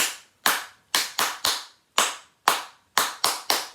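Sharp, crisp hand claps in a rhythmic signal pattern, close and alone: two claps, then a quick pair, then singles and a final quick run of three.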